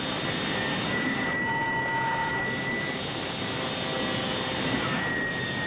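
A powerful exterior cleaning blower roars like a jet engine, a steady, loud whooshing drone with a faint whine running through it, heard alone without speech.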